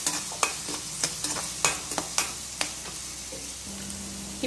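Finely chopped ginger and garlic sauté in a pan with a soft continuous sizzle, punctuated by several sharp spatula taps and scrapes near the start, close up and with no voices.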